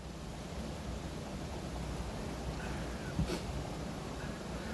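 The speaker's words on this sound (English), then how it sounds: "Yeah, it is pouring here." Heavy rain pours down at a rest stop as a dense, even hiss that holds steady throughout, with one brief faint knock partway through.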